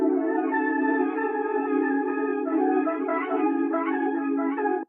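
A sustained chordal music sample drenched in wobbly, detuned vintage tape wow, swelling evenly for about five seconds with shifting pitch before a sudden cutoff, with no voices.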